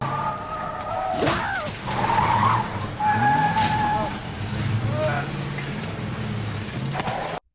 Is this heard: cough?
no